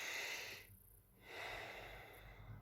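A close, quiet deep breath through the nose, a long inhale followed by a brief pause and a slow exhale, with no talking.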